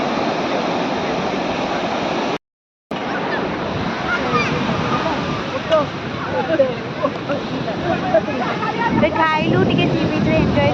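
Sea waves wash steadily onto a beach in a loud, continuous rush of surf. Faint voices and playful shouts mix into the noise, and there is a brief dropout near the start.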